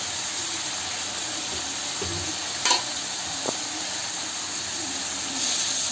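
Green chillies and tomatoes fry in a little oil for paneer bhurji, giving a steady close sizzling hiss throughout, with a brief clink of stirring and a couple of sharp ticks partway through.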